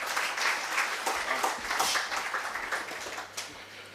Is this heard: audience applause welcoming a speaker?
yes